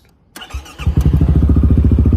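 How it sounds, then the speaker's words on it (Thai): A 2019 Yamaha XMAX fires up after a quiet moment with a thump, then settles into a loud, close, even idle with a rapid regular pulse. "ฟังเสียงเครื่องยนต์"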